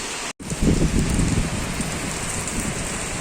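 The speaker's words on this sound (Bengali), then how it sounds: "এই যে জল, বৃষ্টি হচ্ছে দেখো, দেখছো?" Heavy rain pours steadily after a storm in Habra, with wind mixed in, a close, dense hiss that fills the scene after a brief dropout near the start.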